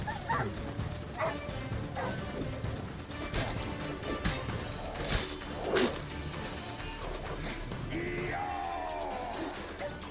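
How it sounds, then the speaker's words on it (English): Dogs bark, yip and whimper in a fight in The Witcher 3: Wild Hunt, several barks scattered across the scene amid whooshing swings and crashing hits, with a voice breaking in now and then. "But I don't like killing dogs"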